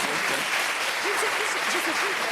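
Studio audience applauding Michel on a French television set, dense steady clapping filling the whole stretch with faint voices mixed underneath.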